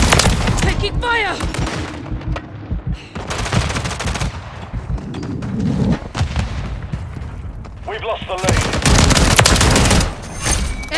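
Call of Duty firefight with bursts of automatic gunfire and heavy booming shots, loud and close, cutting in and out alongside shouted radio-style voice callouts.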